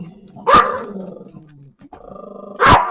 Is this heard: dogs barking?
yes